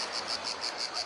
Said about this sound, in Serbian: ovih insekata, cikada,